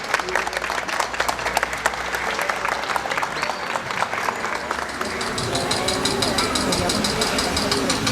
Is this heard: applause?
yes